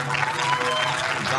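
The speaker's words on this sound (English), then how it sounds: "Johnatan EGAU gets a big round of applause, but he needs to be carried off the court." Spectators at a 3x3 basketball game between Russia and Uganda applaud an injured Ugandan player as he is carried off the court, a brief, dense wash of clapping and crowd noise filling the venue.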